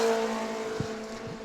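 A mod mini race car on a qualifying lap at New Smyrna drones with a steady engine note that shifts slightly in pitch as it passes, moderately loud and brief with no voices.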